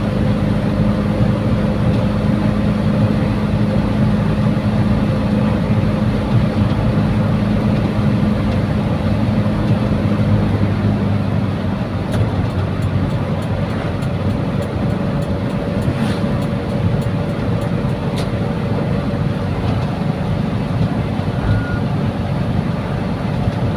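Suzuki Feroza with a carburettor running at a steady 3250 RPM at around 80 km/h, a continuous engine and road drone heard from inside, loud and unbroken throughout, with faint ticking near the end.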